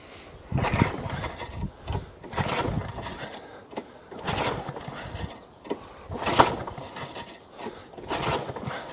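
A lawnmower engine set on full choke is cranked repeatedly with the pull starter, making a rhythmic series of close, roughly one-second rasping pulls without the engine catching.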